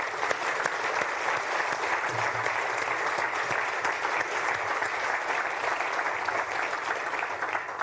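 Sustained applause from a conference audience, steady and dense throughout, with no break.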